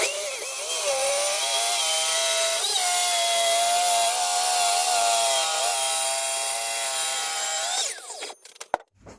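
A power saw whines steadily through scaffolding-board wood, cutting a desk to size, for several seconds, pitch dipping briefly under load, then spins down and stops with a few clatters.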